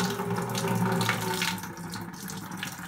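Cooled beer wort poured from a pot into a home-brew fermenter, a continuous splashing, gurgling pour of liquid, steady and close for most of the clip then slightly lighter toward the end, no talking.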